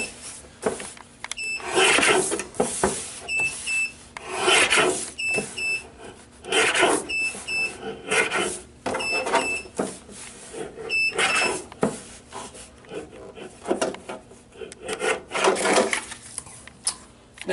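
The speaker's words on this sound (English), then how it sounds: "I'm simply going to trim them right down again." Printed photo paper being trimmed down, heard as a series of scraping, cutting strokes in bursts with brief pauses between them, fairly close, with faint electronic beeps mixed in and no talking.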